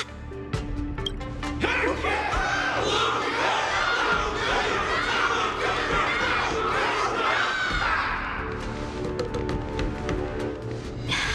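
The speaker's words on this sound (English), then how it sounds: "Everyone's cheering for you, Luka." A large crowd in the video game Honkai: Star Rail cheers and shouts loudly for several seconds, with excited voices blending together before tapering off toward the end.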